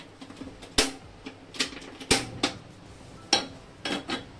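Metal pan set on a stove to fry ginger, giving several sharp clanks and scrapes at irregular intervals, close and fairly loud with no talking.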